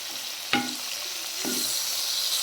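Oil sizzles steadily as cumin and four or five garlic cloves are dropped into a hot pan, with a sharp clink of a utensil and a second splash as the frying continues.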